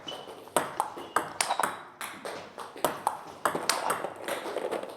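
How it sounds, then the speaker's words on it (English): A table tennis ball is struck with brushing, friction-heavy loop shots, producing a rapid series of sharp, close ticks and bounces spaced irregularly over several seconds, with no talk. "And this is a shot with more friction."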